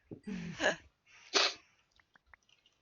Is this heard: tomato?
no